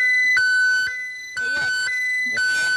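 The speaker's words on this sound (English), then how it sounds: "So when we kick a siren in together." A home security alarm system sounds its siren, a loud steady electronic tone that switches pitch in repeating bursts, with a few voices talking underneath.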